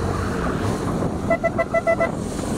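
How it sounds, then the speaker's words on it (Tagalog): A short car horn toots in a quick series of light beeps over steady traffic and engine rumble outdoors. "Ang busina, ang cute."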